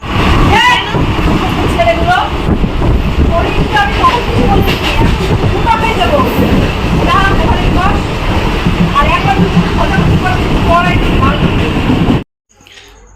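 A passenger train rumbles along loudly from inside, a steady roar with rhythmic rattling, while a voice talks briefly over it.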